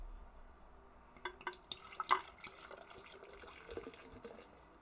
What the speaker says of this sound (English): I poured it in my mug, and I hard poured it like a boss